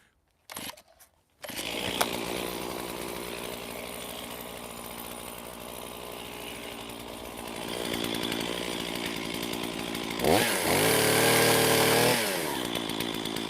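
A freshly grinder-sharpened chainsaw cuts black locust and cherry logs: after a brief sputter it runs loud and steady close by, then bogs and rises in pitch as it bites into the wood for a couple of seconds before easing off.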